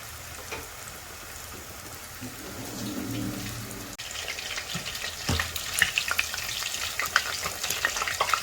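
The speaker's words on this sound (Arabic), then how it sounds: "رح نقلي كم قرص كبي" Kibbeh patties fry in oil. A faint sizzle after a sharp clatter swells into a loud, crackling, spitting fry that keeps popping to the end.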